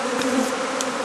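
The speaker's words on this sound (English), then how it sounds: "They're starting to buzz a little bit," A swarm of honey bees buzzes in a close, steady drone, with a few individual bees flying past near the microphone.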